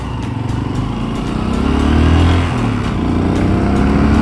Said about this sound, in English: engine response, throttle response is okay guys